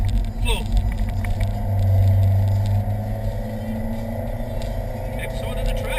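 A car accelerates hard on the Rockingham race track, its engine rumble swelling into a loud low drone near the middle before settling, heard from inside the cabin under occasional talk.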